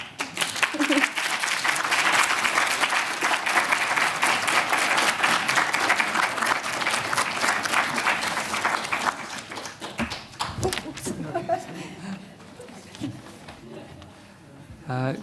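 A seminar audience applauds a Japanese-culture lecturer with sustained dense clapping that fades out after about nine seconds, leaving scattered claps and a voice talking.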